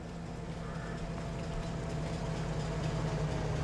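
A train pulling in within the video game Farming Simulator 22, a steady low mechanical rumble with a faint engine hum that grows slightly louder as it nears.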